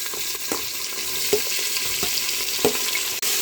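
Chopped onions with fennel seeds sizzle steadily in hot oil in a pan for goat trotter curry, with a few soft stirring scrapes and no talking.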